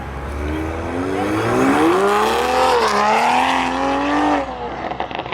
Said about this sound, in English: And then the Mark 5 Supra right here.